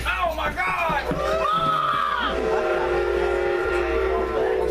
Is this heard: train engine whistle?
yes